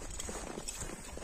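Horse hooves clip-clop faintly in an uneven walking rhythm, heard at a distance beneath a steady hiss of background noise.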